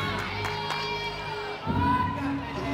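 A large crowd murmurs and cheers in an arena during an away college gymnastics meet, a steady, busy roar that swells louder near the end, with announcers talking over it.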